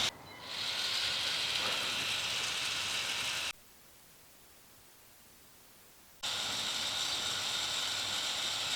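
A forward-mount winch on an off-road vehicle reels in its line while the vehicle creeps backwards. The steady mechanical whirring drive runs, cuts out completely for a few seconds, then resumes in stop-start fashion.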